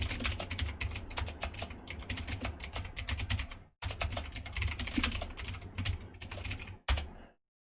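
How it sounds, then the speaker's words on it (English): Rapid, steady typing on a computer keyboard while entering figures into an Excel spreadsheet, close and crisp, with a brief pause midway and a stop near the end. "So let's type those in now."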